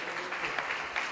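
Steady applause from an audience at an awards ceremony, a dense wash of clapping that holds level for about a second.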